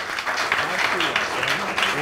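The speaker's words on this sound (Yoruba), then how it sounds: "ẹ bá mi fún wọn látọwọ́" An audience at a Yoruba-language school debate competition applauding the participants, a dense, steady patter of clapping that holds through the whole moment with voices mixed in.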